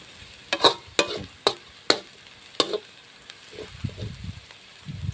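Tilapia frying in hot oil, with a string of sharp crackling spits and pops in the first few seconds, then softer sizzling and stirring, no talking.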